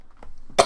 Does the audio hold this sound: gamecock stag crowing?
no